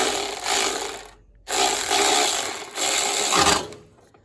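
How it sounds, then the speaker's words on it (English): Bolts holding down the alternator coil on a Miller Bobcat 225G welder-generator being tightened with a ratchet, giving close, loud bursts of rubbing, clicking mechanical noise broken by a short pause. "we don't want to forget to put the bolts in and tighten the ones that hold down the coil"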